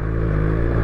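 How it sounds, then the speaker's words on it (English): BMW S1000XR inline four-cylinder sport-touring motorcycle engine running hard off-road, a loud, steady, close engine drone with constant harmonic buzz throughout the short moment, no pauses. "a screaming inline four-cylinder engine"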